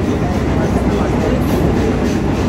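A crowded local AC commuter train runs with a steady low rumble and faint rhythmic rail clatter, loud and continuous throughout.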